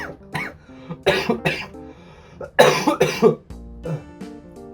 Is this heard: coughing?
yes